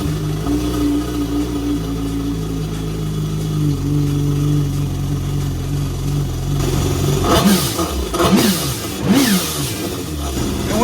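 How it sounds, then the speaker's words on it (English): A jet ski engine idles loudly and steadily, then revs in several rising and falling surges near the end, with no talk over it. "So I'm gonna start up the engine"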